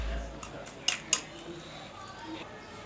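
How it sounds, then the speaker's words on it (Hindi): A spoon mixes a vegetable omelette batter with fresh coriander in a bowl, giving quiet, scattered clicks and two sharper taps against the bowl in a calm kitchen. "सारी चीज़ें डालने के बाद हम इसको दोबारा मिक्स कर लेंगे।"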